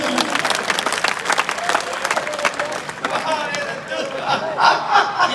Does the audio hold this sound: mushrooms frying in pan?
no